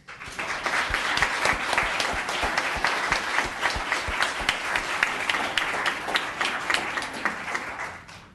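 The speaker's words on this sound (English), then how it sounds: "let's recognize, applaud, and welcome the business of the year" Audience at a town council meeting breaks into steady, dense applause that fills the whole stretch at an even level, with many hands clapping together and no speech.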